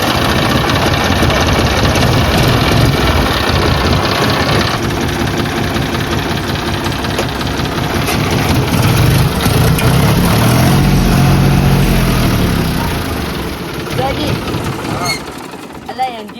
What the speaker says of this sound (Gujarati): એન્જિન તો ટ્રેક્ટર ફટી ગયેલું છે